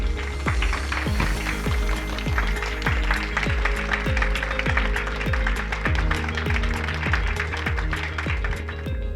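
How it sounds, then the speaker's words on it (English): An audience applauds at a university dialogue event in Tokyo, steady clapping filling the hall while a thudding rhythmic beat plays underneath. "Give them a round of applause."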